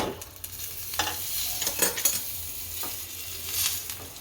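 Asafoetida and two red chilies drop into hot oil for a tempering with a light, crackling sizzle. A few sharp ladle-stirring clicks sound close by, with no talking.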